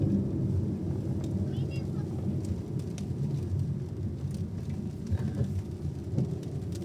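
Steady rain begins to fall outdoors near dusk, making a dense continuous hiss and patter with low rumbling, heard up close with a faint voice under it.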